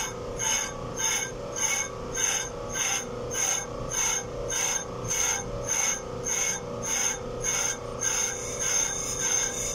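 A brake disc skimming lathe runs steadily while its cutting tool grazes the spinning rotor, giving a rhythmic rasping scrape that pulses about twice per second over a constant mechanical hum, close and alone.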